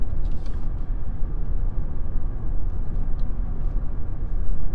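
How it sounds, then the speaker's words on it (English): Steady broadband roar of wind and road rumble inside a Ford F-150 Lightning electric pickup cruising around 60 mph, loud and continuous with no voices. "about 60 wind noise does pick up a good bit, though"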